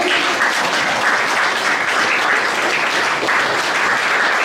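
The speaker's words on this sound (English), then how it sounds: "let's give them a round of applause as well." Steady, loud applause from a crowd, dense clapping that continues evenly throughout without voices.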